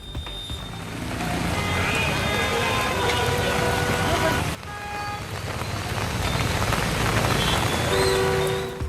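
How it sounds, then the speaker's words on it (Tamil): Heavy overnight rain pours down in Secunderabad as floodwater streams along the roads and vehicles creep through it. A steady, dense roar of rain and rushing water continues throughout with traffic mixed in and no pause in the wash of sound. "சாலைகளில் மழைநீர் பெருக்கெடுத்து ஓடியதால் ஊர்ந்து சென்ற வாகனங்கள்"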